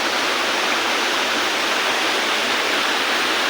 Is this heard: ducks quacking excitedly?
no